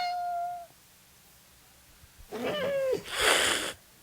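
A cat meowing twice, a short clear cry at the start, then after a quiet pause a louder, wavering meow followed by a breathy hiss-like burst, near and distinct.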